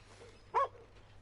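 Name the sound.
dog barking and whimpering in video game Red Dead Redemption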